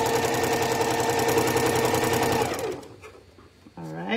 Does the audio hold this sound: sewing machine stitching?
yes